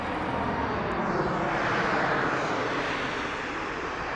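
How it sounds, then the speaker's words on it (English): An incoming Southwest Airlines jet passes overhead on approach to Las Vegas Harry Reid International Airport, its engines a loud continuous roar that swells slightly through the middle. "And we have an incoming flight."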